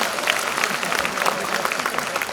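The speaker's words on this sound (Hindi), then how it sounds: "आप थोड़ा जोर से तालियां बजाना सीखो" An audience at a school annual day applauding, a dense, steady wash of clapping from many hands filling the space, with a voice faintly underneath.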